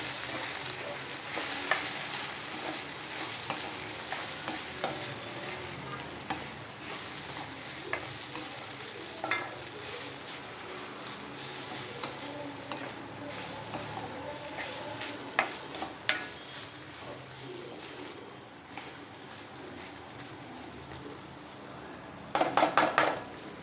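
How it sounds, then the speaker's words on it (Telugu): Sliced okra sizzles steadily in a hot pan while a metal spoon stirs it, scraping and clinking against the pan in scattered taps, ending with a quick cluster of clatters. "మళ్ళీ ఒకసారి కలుపుకుంటున్నాను."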